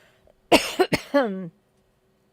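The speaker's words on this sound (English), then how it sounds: "excuse the cough. Unfortunately, my cough has returned with a vengeance" A few harsh coughs burst out close by in quick succession, the last one trailing off, then quiet.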